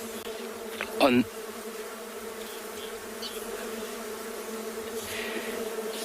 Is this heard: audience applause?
no